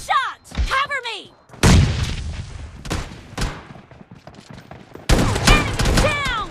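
Loud video-game gunfire from an S12K shotgun in a team deathmatch, heavy blasts in bursts mixed with crackling battle effects and whooshing, with brief quiet gaps and a couple of clattering impacts.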